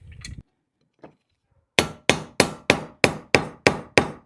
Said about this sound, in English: You can use your ball peen to round this head over. It's called peening a pin